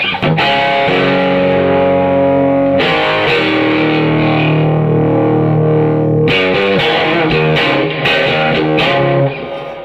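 A loud, distorted electric guitar through a 200-watt old-school Marshall-style amp, ringing chords with sustained notes and a couple of changes, ending abruptly.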